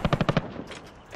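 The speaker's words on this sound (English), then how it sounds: "there's people shooting again" Automatic gunfire in the video game Warzone: a quick burst of five sharp, evenly spaced shots, followed by a quieter, rougher tail of more distant firing.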